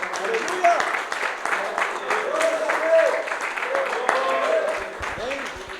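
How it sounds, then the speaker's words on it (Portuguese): Congregation clapping at a church men's gathering, a sustained, moderately loud round of applause with voices calling out over it. "Se você concorda comigo, aplauda ao Senhor em nome de Jesus."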